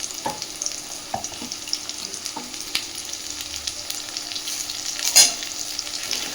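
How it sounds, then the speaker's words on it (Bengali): Ground mustard and green chili paste frying in a pan of oil after garlic, a continuous crackling sizzle with scattered clicks of the spatula and one sharper clatter, close up with no talking. "এবার দিচ্ছে সর্ষে আর কাঁচা লঙ্কা একসাথে বাটা।"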